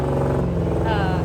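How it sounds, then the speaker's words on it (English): A Range Rover engine runs steadily close by with a low rumble on rural four-wheel-drive roads around Santa Teresa, Costa Rica, with a voice heard over it. "Yeah, this is the sound of a Range Rover."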